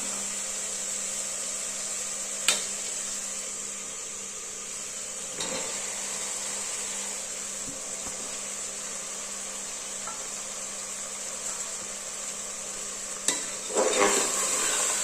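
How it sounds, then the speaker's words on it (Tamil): Mushrooms being stirred and sautéed in a pan of masala for mushroom biryani. A steady soft sizzle runs throughout, with a few sharp clinks of the spoon against the pan and a brief clatter near the end. No one speaks. "காளான் ஆட் பண்ணி ஒரு 2 நிமிஷம் வதக்கி விட்டுக்கலாம்."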